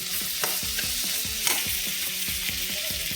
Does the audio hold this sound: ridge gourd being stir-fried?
yes